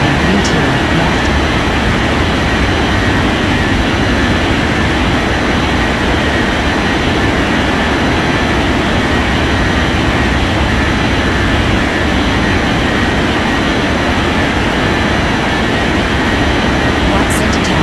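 A jet airliner rolls for takeoff on runway 32 left in an air traffic control game, its loud, dense engine roar steady and unbroken throughout.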